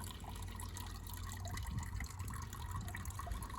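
Water trickles and splashes steadily through a garden pond bog filter filled with clay balls, a soft continuous flowing sound heard close up with no talking.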